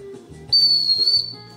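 A hunting whistle blown once in a sharp, loud, sustained shrill tone of about 0.7 seconds, heard close up, with faint background sounds before and after.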